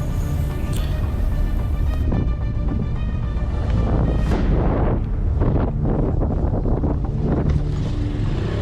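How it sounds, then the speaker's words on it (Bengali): A motorcycle engine growls and whines at low speed, held back in first gear with the clutch fully released while descending a steep slope, with heavy wind buffeting the microphone throughout. "বাইকের সাউন্ড শুনেই নিশ্চয়ই বোঝা যাচ্ছে যে আমার বাইকটা কিভাবে নামছে"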